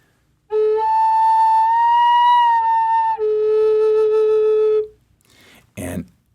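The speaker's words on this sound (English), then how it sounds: "If one of the holes is just slightly open, this is the sound you'll get." A Native American flute, played with one finger hole left slightly open, sounds a loud, sustained, slightly shrill tone with bright overtones. It drops to a lower held note partway through, then cuts off, followed by a brief burst of breathy noise.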